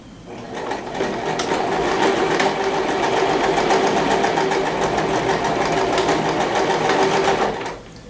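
A sewing machine runs in one sustained burst as it stitches fabric for a necessaire, a loud close mechanical whir with rapid needle clatter that starts, holds for several seconds and stops.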